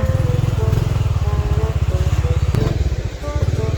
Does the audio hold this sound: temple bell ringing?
no